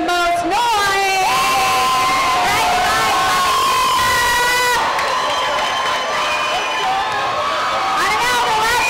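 An audience at a functional fitness competition event cheering, whooping and shouting loudly and continuously, with many voices yelling together close by.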